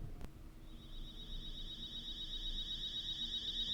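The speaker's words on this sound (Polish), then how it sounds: "Budzik." A high electronic video game alarm clock tone (Fears to Fathom: Home Alone) rings steadily and grows slightly louder, held continuously after a brief click at the start.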